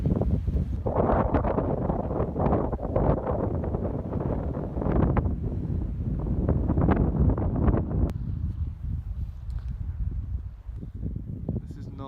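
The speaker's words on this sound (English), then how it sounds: "Probably can't even hear me because it's so windy." Strong Scottish coastal wind buffeting an outdoor microphone in heavy, uneven gusts of low roaring rumble, loud and continuous, easing slightly near the end.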